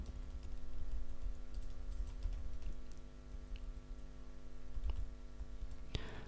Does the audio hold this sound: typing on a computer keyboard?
yes